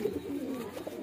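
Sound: pigeon cooing

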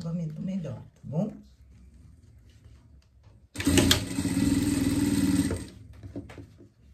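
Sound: sewing machine stitching with white thread

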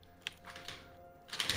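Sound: computer keyboard being typed on rapidly

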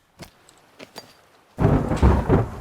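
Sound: sudden thunderstorm in the video game The Forest

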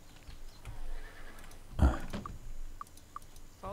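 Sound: horse neighing in video game Might and Magic VI

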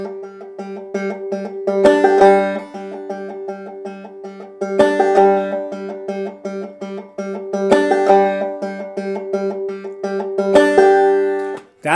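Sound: clawhammer banjo, thumb riding the open third string

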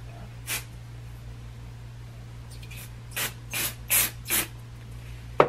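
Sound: spraying hair product from a bottle

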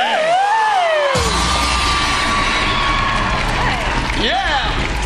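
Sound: audience applause for the DJ

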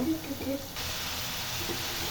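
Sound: meat frying in a pot

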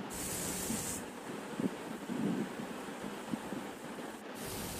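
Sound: beef cutlets frying in oil in a pan

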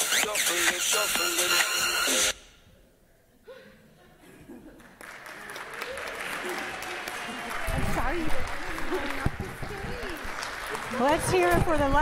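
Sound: audience applause

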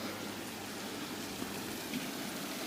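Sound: rain falling at a riverside holiday base

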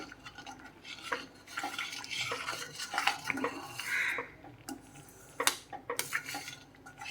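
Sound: stirring wheat rava prasadam while it cooks in a pan

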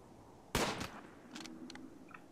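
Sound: gunshots in a video game

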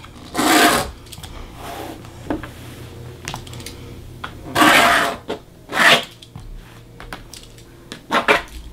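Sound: pencil drawing a trim line along a ruler on fabric

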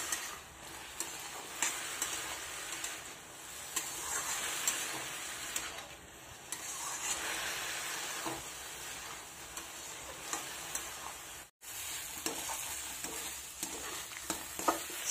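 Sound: stirring and cooking saag (leafy greens) in a pan

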